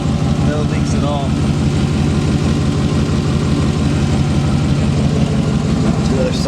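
A 1991 V2500 truck engine idles steadily and loudly nearby, a low continuous rumble with no break.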